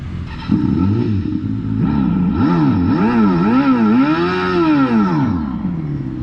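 A custom speaker on a Revolt RV400 electric motorcycle plays a synthetic engine note, a deep rumbling drone that swoops up and down in repeated rev-like arcs. It is loud and close throughout, with no one talking.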